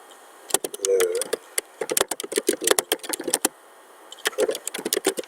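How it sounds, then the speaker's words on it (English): Rapid clacking of a computer keyboard in two bursts separated by a short pause, close and fairly loud, with irregular key strikes and no voices. "I type for the details"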